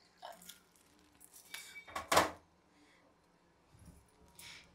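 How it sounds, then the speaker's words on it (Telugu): A brass pot set aside for temple prasadam is handled in a home kitchen, giving a few light metallic clinks and one sharper clatter, then quiet handling noise. "ఈ ఇత్తడి గిన్నె ఇదిగో దేవుడి కాడ ప్రసాదాల కోసమని అది తీసుకున్నానండి."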